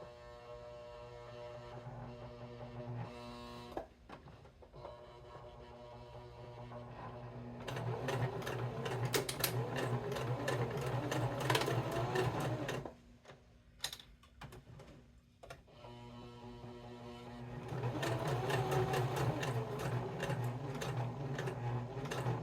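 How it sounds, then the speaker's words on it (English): A sewing machine stitches rope into a heart-shaped coaster in bursts of rapid, rhythmic whirring, pausing and restarting several times with a steady hum between runs. "we'll stitch forward and around the first curve"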